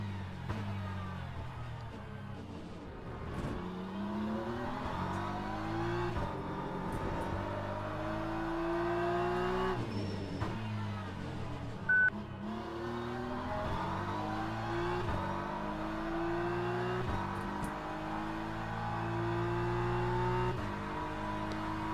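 Race cars in Le Mans Ultimate, a Porsche among them, battle wheel to wheel at Bahrain Paddock Circuit, engines droning loudly and steadily with gear changes and rising and falling revs throughout, no talk.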